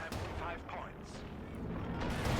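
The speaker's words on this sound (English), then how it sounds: "Land mattress firing" Land Mattress rocket artillery in Company of Heroes 2 sends out a dense, rumbling rush of launches and booms during a 4v4 match, loud and continuous, with a voice talking over it.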